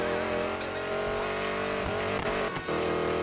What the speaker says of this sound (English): Listen to it sound. It sounds thrash. It's awesome. I love that sound. American Muscle makes some good noises.